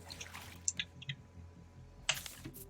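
A cup is filled with salt water in Raft: a few faint, soft drips and small watery splashes, brief and scattered against quiet background.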